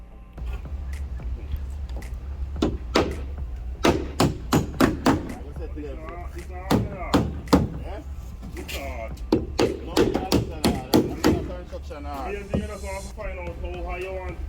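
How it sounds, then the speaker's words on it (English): Hammer blows drive nails into a thin plywood strip being bent over a framed arch, a run of sharp, irregular knocks in bursts, close by, with background noise between strikes. "So I put one down and then I nail, and as I nail I bend it."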